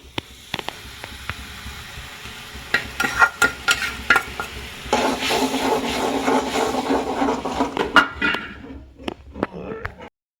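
Paneer is stirred into a sizzling onion-tomato gravy, with a spoon clattering against the pan and a steady frying hiss swelling midway.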